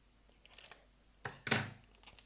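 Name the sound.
scissors cutting a small piece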